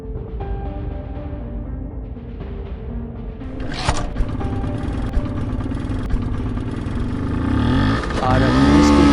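A small scooter engine idles, then revs up and pulls away, its drone rising and growing louder toward the end, in an animated short film.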